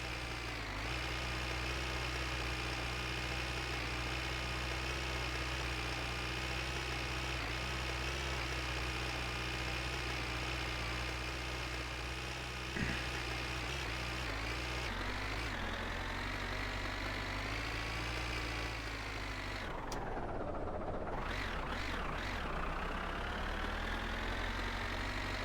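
Modded tractor engine in a farming video game idling at a steady low drone for a long stretch, with a brief dip and rise in tone near the end, no voices.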